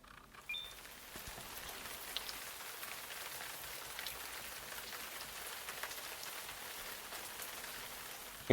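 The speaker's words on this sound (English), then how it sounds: "It started raining" Steady rain falls and patters on surfaces as a close, even hiss that holds constant for several seconds, with a few sharper drops landing nearby.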